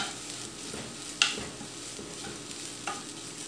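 Grated coconut being stirred in a pan for a banana peel and green gram stir-fry, a steady soft scraping with a low sizzle underneath and two sharp clinks of the spoon against the pan.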